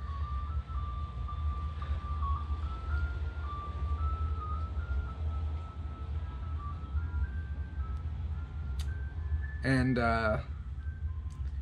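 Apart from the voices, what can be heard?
ice cream truck jingle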